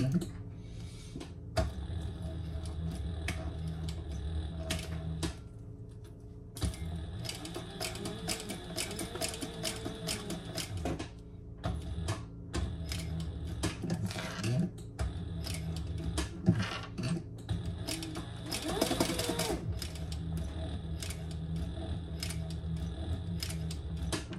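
Sewing machine stitching fabric at a set stitch length, running in bursts of rapid mechanical clatter broken by short pauses, close and steady, with a voice heard briefly at times.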